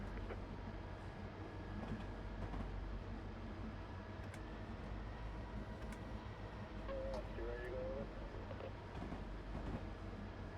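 An SD40-2 diesel locomotive runs at full throttle in a train simulator, a steady low engine rumble with faint rail noise and a brief horn-like tone partway through.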